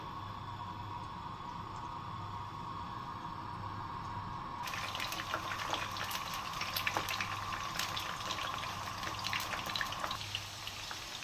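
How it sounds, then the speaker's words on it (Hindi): Marinated chicken pieces for chicken manchurian frying in hot oil, a steady broadband sizzle that grows louder and busier partway through as more pieces hit the pan, with a low hum underneath and no talk. "अब हम इसको फ्राई कर लेंगे।"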